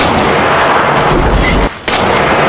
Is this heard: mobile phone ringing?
no